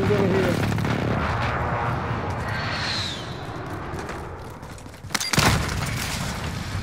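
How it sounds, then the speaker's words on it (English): In a battle royale video game, an airstrike sets off a rumbling barrage of explosions, a low continuous roar with a high whistling sweep, then a sharp near blast toward the end, while a player talks over it. "Oh, oh, an airstrike."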